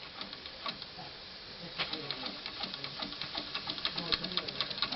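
A small model steam engine runs on compressed air fed through a regulator, with a slight leak. It makes a faint, quick, rhythmic ticking and puffing chuff that grows a little busier toward the end.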